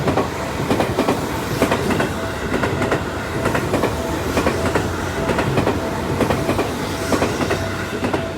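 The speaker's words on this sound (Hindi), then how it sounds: "और देखो एक ट्रेन आ गई गाइस, ये जो जापान की ट्रेन मेट्रो है" A Japanese metro train pulls in with a steady rolling rumble and rhythmic clickety-clack of wheels over rail joints, loud and close throughout, with no voices.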